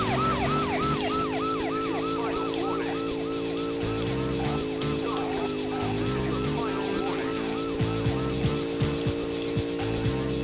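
A police siren in the video game Driver 2 Advance wails in a steady repeating cycle over a continuous engine drone, loud and sustained throughout, with no talk.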